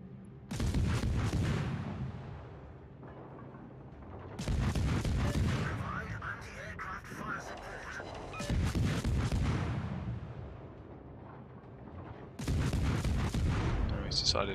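Heavy warship guns in World of Warships fire in four loud, booming salvos spaced several seconds apart, each rumbling out over steady battle noise.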